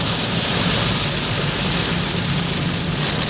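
Heavy rain pours down during the rainy season at Phu Thap Boek in Thailand, a loud, dense, steady hiss of water striking the surface with no pauses and no talking.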